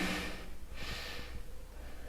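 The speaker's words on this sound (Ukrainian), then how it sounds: "Дихаємо." During a yoga exercise, a slow, close breath is drawn in and out audibly, soft and airy, with no speech over it.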